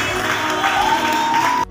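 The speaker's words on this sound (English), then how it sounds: "Let's give them a big round of applause" Wedding guests applaud the newly married couple in a dense, steady burst of clapping with a faint sustained tone running through it, ending in a sudden drop.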